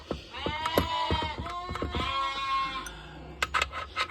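Sheep bleating in a small outdoor pen, several overlapping nasal calls close by, continuous for a few seconds, followed by a few brief sharp bleats near the end.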